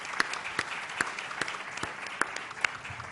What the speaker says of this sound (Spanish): les pido un fuerte aplauso para los compañeros que han estado